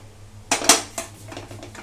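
Spoon or ladle knocks against a pot while Sindhi seyal sabzi is mixed, three sharp clinks close by followed by softer scraping taps, no voices.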